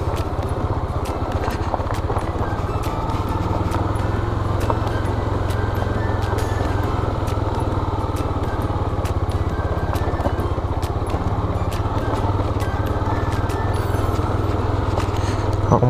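A motorcycle engine runs steadily at low revs in first gear, engine braking downhill, with a throbbing, rumbling note, close by and continuous, with faint clicks and road noise.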